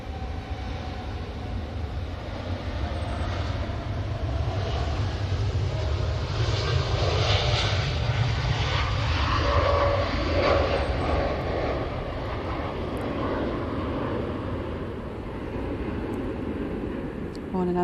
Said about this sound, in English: I want to pan this plane quite well